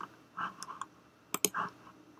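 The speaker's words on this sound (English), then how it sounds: "click" A few sharp, quiet mouse clicks scattered over a couple of seconds while working in a 3D modeling program, with a close pair of crisp clicks near the middle.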